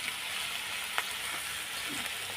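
Steady sizzle of cooking oil in a hot pan with frying ground fish for a home-style fish chorchori, a constant hissing crackle at low level with a faint stir clink, no voices.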